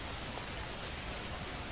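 Steady rain falls in the video game Schedule I, an even, dense hiss of drops on surfaces with no voices, quiet and unbroken throughout.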